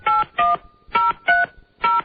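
Telephone keypad tones sound during a radio show call, five crisp dialing beeps in an uneven rhythm with short pauses between them, clear and close with no talk.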